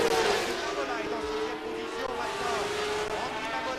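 500cc Grand Prix motorcycles race and accelerate on the 1988 French Grand Prix circuit, their engines rising and falling in pitch as the bikes pass at middle distance, with a race commentator talking over them.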